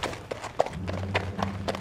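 Hooves clip-clop at a walking pace, a few irregular knocks over a low rumble, fairly close.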